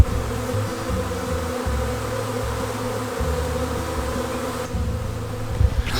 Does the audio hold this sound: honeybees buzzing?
yes